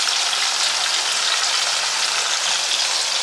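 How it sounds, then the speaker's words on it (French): Onions sizzle in a pot for a Moroccan couscous, a steady, even crackling hiss throughout, close and moderately loud with no voices. "Ismaël, il va mettre les oignons."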